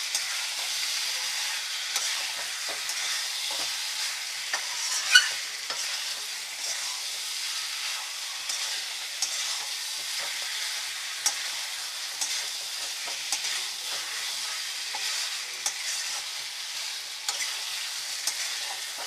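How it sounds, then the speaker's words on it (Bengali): Chicken and moong dal stir-fry in a pan, giving a continuous close sizzle broken by light scraping stirs at a steady pace, with no voices. "আমি মুগের ডাল দিয়ে ভালো করে চিকেনের সাথে কষিয়ে নিলাম।"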